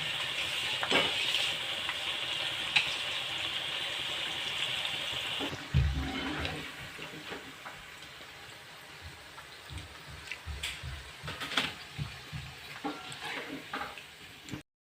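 Sliced banana chips dropped into hot oil in a home kitchen, a strong hissing fry that bubbles steadily, then quieter crackling as they settle, close by with no speaking.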